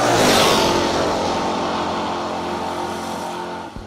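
Third-generation Camaro race car at a no-box drag racing event, its engine roaring loud and close at the start, then holding a steady, slowly fading drone as it pulls away.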